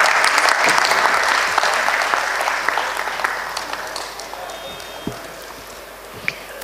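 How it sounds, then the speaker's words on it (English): Audience applause at a higher education excellence awards ceremony, loud and sustained clapping from a sizable crowd that stays even throughout with a few sharper individual claps standing out. "Please keep the applause going for them."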